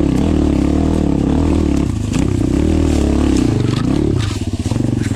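An Apollo Sano DMZ 250cc dirt bike engine drones loudly and steadily up close, its pitch dipping and rising as the rider works the throttle.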